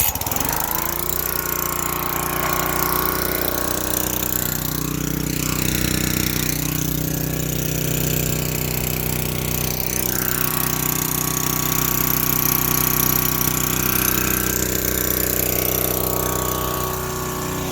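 A cheap, worn gasoline pressure washer engine with a sticky choke link runs at full throttle, a loud, steady, rough buzzing drone that holds without pause.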